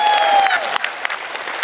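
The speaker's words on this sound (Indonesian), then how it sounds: "Tepuk tangan untuk Muslimat Magetan." Audience applause for the Muslimat women's group of Magetan at a large religious gathering: a dense, steady burst of clapping from a big crowd that holds at full volume, with a brief voice over the start.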